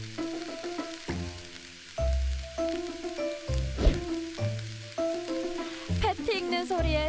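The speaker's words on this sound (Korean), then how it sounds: "패티 익는 소리에 치즈 받고 내 귀까지 녹는 것 같아" Burger patty sizzling and frying on a hot surface in a restaurant kitchen, a crackling hiss with scraping and stirring sounds, close and moderately loud, with brief bits of voice in the background.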